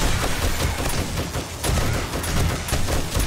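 Machine gun fire in the survival video game 7 Days to Die: a loud, continuous burst of rapid shots rattling on without a break for several seconds.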